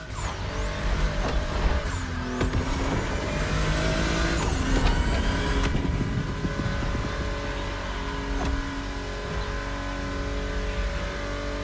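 Porsche 965 Turbo, tuned past 400 horsepower, roars through a race in The Crew Motorfest, its engine revving hard and shifting through gears with a loud, continuous, up-close drone that climbs and drops.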